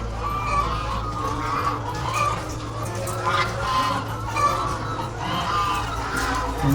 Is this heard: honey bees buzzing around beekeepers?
no